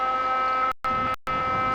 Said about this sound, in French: C'est une alarme de configuration.